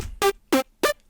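Three short bursts of distorted, oversampled synth trance chords, each lasting about a tenth of a second and evenly spaced with near silence between them, gritty and bright, with no voices.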